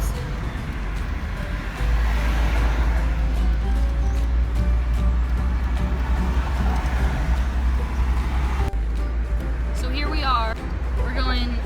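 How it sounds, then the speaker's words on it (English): A car with its hazard lights on travels slowly along a highway at about 35 mph, its road rumble and tyre noise steady and close while people talk inside the cabin. "We're going 35 miles an hour on the highway. Hazards on, trying to make it."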